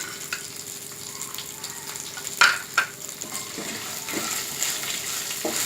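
Spices, dry red chilies and asafoetida sizzling in hot oil for rawa upma, a steady close frying hiss with a couple of sharp utensil scrapes and clinks as they are stirred.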